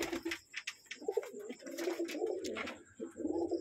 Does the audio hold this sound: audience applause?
no